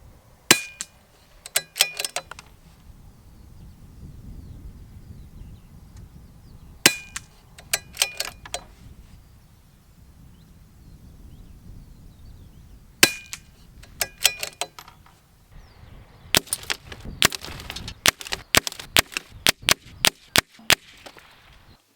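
A CZ 457 MDT ACC .22 LR rifle fires from a bench or prone position, with several clusters of sharp, closely spaced cracks and metallic pings. Quiet gaps separate the groups, and a denser volley comes near the end. No talking is heard.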